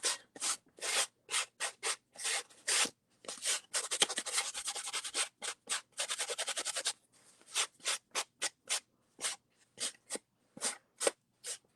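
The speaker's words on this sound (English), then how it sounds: "So the sponge is just helping it to rub off a little bit." A sponge rubs ink across a paper card for a Queen Bee birthday card in quick, close scrubbing strokes with short gaps, plus one longer stretch of continuous rubbing, with no talking.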